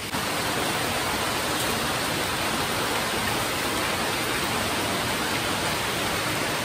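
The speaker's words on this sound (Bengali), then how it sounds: "মোটামুটি ভালো জোরেই বৃষ্টিটা পড়ছে" Heavy rain pours down in a dense, even roar of broadband hiss that stays steady and loud from start to finish, with no other sounds standing out.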